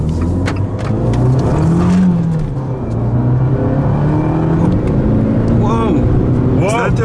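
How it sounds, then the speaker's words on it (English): A Lada Niva's engine is revved hard at full throttle, a loud continuous roar with rising pitch sweeps heard from inside the car. "let me just destroy the throttle here."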